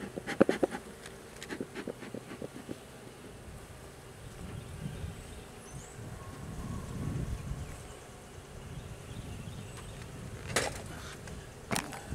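Honeybees drone around an open hive during an inspection, a low, wavering buzz that swells and fades close by, with a few light knocks and rustles near the start and end.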